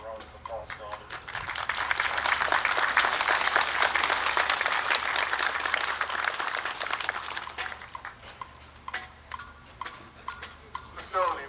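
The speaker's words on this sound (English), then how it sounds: "the city employees really deserve a round of applause for all of this" Audience applause for city employees at a library dedication ceremony, a dense, steady clatter of clapping that swells for several seconds, then thins out as a voice speaks over the last scattered claps.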